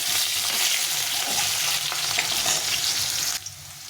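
Thin, long-cut potato slices frying in a pan, giving a loud, continuous close sizzle that drops off abruptly near the end.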